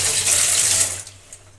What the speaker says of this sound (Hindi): मैंने इसको छाल दिया है पानी से